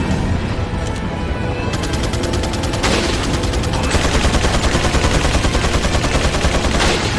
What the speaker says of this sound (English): There's someone shooting at me from a different angle now.